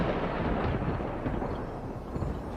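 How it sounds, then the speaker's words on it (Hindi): Heavy rolling thunder rumbles as a horror-story sound effect, a dense, loud low roar sustained for the whole span without a clear sharp crack, alone with no voices. "तब एक तेज बिजली कड़की"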